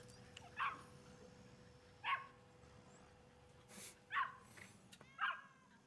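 Small dog in a video game barking in short yips, four separate bursts spaced a second or so apart, fairly close and clear over a low steady background hum.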